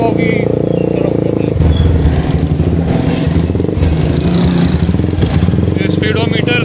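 A Super Star 200 motorcycle on a test ride, its steady engine drone loud and continuous throughout, with a rider talking over the engine and wind.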